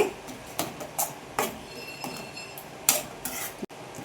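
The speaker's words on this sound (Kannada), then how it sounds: "ಇವಾಗ ಚೆನ್ನಾಗಿ ಮಿಕ್ಸ್ ಮಾಡ್ಕೊಳ್ಳೋಣ ಆಯಿತಾ" Grated coconut mixture being stirred in a pan over a low flame, giving a string of light metallic scrapes and clinks of a utensil against the pan, close and fairly quiet, with no voices.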